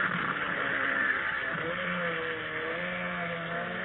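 Mercury Mark 25 Hurricane outboard motors drive jump boats on the water, a steady, loud buzzing engine drone that holds its pitch with slight rises, with no talk over it.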